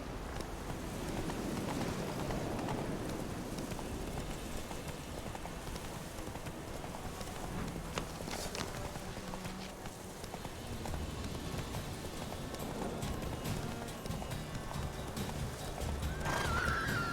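Roach, a horse in The Witcher 3, gallops with steady rapid hoofbeats over a rainy, noisy game soundscape, with a whinny and scattered thuds and clatter throughout.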